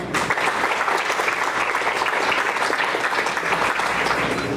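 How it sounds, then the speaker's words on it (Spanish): An audience applauds at the opening of a folk art exhibition at a museum, steady loud clapping from many hands that fills the whole stretch without a break. "para quien pido un fuerte aplauso, por favor"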